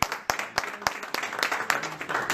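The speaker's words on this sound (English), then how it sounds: "round of applause one more time, ladies and gentlemen" Audience applause at an African Students Association event at IUPU Indiana University, clapping in bursts with sharp individual claps, moderately near, with voices mixed in throughout.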